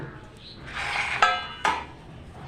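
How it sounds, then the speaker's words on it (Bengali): A metal plate for sun-drying raw mango pickle is picked up, shifted and set down in a kitchen, giving a few close clinks and two sharp metallic rings that trail off. "আমি এবার একটা থালা নিয়ে নেব"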